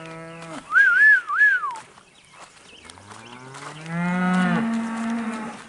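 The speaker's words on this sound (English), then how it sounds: "Come here, cows." A cow gives a long, low moo, preceded by a wavering, whistle-like call; the animal sounds close, with quiet gaps between the calls.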